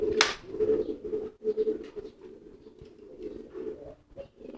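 A homing pigeon cooing close by, soft low throaty coos repeating in a steady run after a brief sharp rustle at the start, with faint patter in the background.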